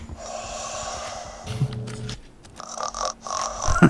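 Captain Scarlett, the pirate captain in the video game Borderlands 2, snores while asleep: a few slow, wet snorts and rasping breaths at close range, with a steady low background hum and no speech.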